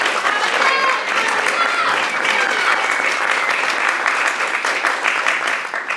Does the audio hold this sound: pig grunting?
no